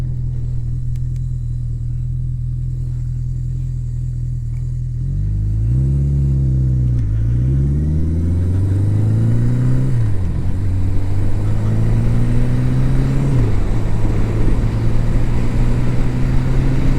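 A 1980 Yamaha XS1100 Special motorcycle engine runs steadily while riding, a loud continuous drone that rises and falls through several gear changes and throttle sweeps, growing rougher and louder after the first few seconds.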